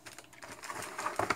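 Typing on a SunRace keyboard fitted to an Amiga CD32 console, a quick run of light plastic key clicks, close and fairly quiet, with no talking.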